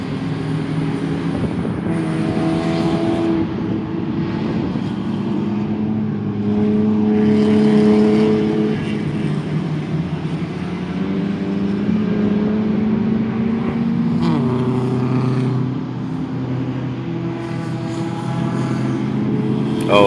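Race cars at a 24 Hours of Lemons event at Carolina Motorsports Park, heard from trackside at turn 1, roaring past one after another with engines rising and fading in a continuous loud drone.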